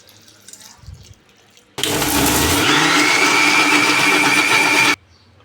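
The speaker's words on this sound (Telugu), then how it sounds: "ఇవన్నీ మిక్సీ పట్టుకోవాలి" A mixer grinder whirs loudly for about three seconds grinding a spice paste with water, starting and stopping abruptly, after a quiet moment of faint background noise.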